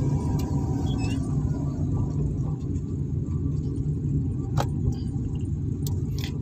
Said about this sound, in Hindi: थर्ड गियर डालिए